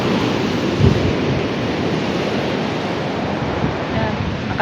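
Heavy surf roars continuously, big waves crashing in a loud, rumbling wash that never lets up, with one thump of impact early on.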